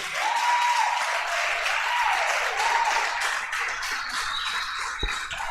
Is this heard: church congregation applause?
yes